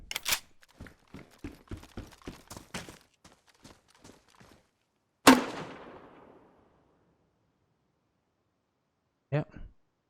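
A standard smoke grenade bursts in DayZ with a sharp pop and a hissing rush of smoke that fades over about a second, after a run of footstep-like taps, with another brief burst near the end.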